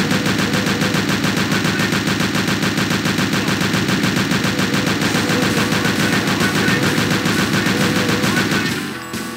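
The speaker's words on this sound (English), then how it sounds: "I'm gonna just gun these guys down as fast as I can." Rapid sustained gunfire from Doom II on the WolfenDoom map with fast monsters, a loud continuous machine-gun rattle that runs unbroken for several seconds and then cuts off near the end.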